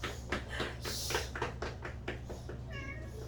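Several cats meow one after another in short, overlapping calls over a steady low hum, fairly close and moderately loud.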